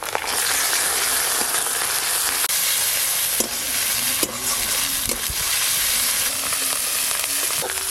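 Chopped onions and ginger paste frying in an oiled pan, a steady close sizzle broken by scraping stirs and a few sharp clinks of a spatula against the pan, no voices over it.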